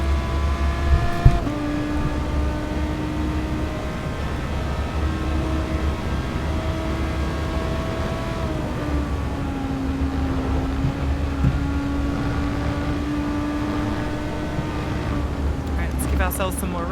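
Racing car engines in Gran Turismo Sport at the Spa circuit, droning steadily with layered engine tones that rise and fall through gear changes, continuous and fairly loud throughout.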